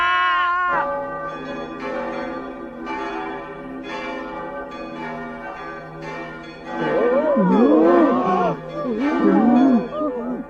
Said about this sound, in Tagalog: Tumutunog ang kampana.